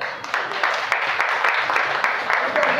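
Applause from an audience at a church event, a steady wash of many hands clapping at moderate distance, continuing evenly without a break.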